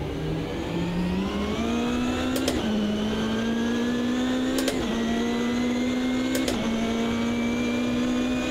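Race cars in the Automobilista 2 video game, a steady engine drone rising slowly in pitch as the car accelerates, with three sharp gear-shift blips spaced a couple of seconds apart.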